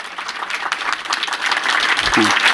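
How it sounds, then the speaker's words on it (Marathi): Men in the audience at a public lecture held by a Ganesh festival group applaud for the women, a dense, steady crowd clapping that swells louder, with a voice speaking over it. "चला यानंतर सगळे पुरुष टाळ्या वाजवा महिलांसाठी"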